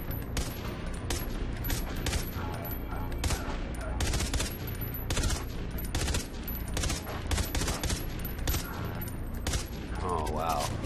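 Rapid gunfire bursts in the first-person shooter Far Cry 3: Blood Dragon, dense and continuous over game music and effects, with a voice talking at times.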